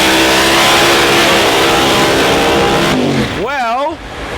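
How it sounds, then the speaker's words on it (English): Pro Mod drag racing car engines warming up at an outlaw drag racing event, a loud continuous rumble under crowd and announcer noise, then a revving sweep rising and falling near the end. "So they're gonna start warm up in the motor"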